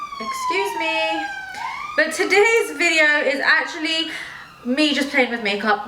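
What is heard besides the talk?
emergency vehicle siren outside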